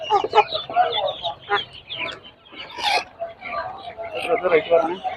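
Chickens clucking and squawking in short bursts close by at Peruvallur market, mixed with people talking over a busy, crowded background.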